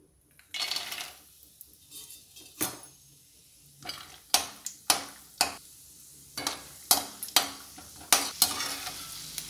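Peanuts frying in oil in a kadai, a hiss of sizzling under repeated scraping and stirring strokes of a metal spoon against the pan, about a dozen irregular clanking stirs, close and clear with no voices.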